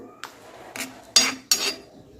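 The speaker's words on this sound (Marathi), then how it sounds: "याला सगळं मिक्स करून घ्यायचं असं पूर्ण खालपासून भात पूर्णचा व्यवस्थित मिक्स करून घेतला" Coconut rice mixed in a pot from the bottom up, giving three or four short, close scraping bursts of utensil against metal with brief pauses between them.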